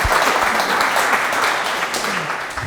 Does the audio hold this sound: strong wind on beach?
no